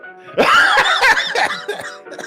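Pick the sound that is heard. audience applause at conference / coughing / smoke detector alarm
coughing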